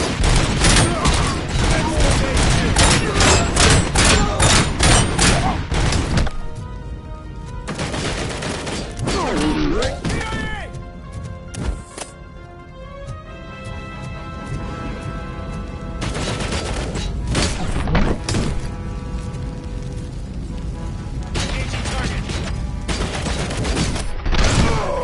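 Dense, sustained gunfire rattles in the Robocop: Rogue City video game, with loud bursts that thin out midway and then build back into heavy continuous fire alongside game sounds.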